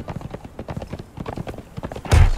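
Horse hooves clip-clopping steadily as a mount is ridden in the video game Conan Exiles, a rhythmic, close trot that ends in a sudden loud thump.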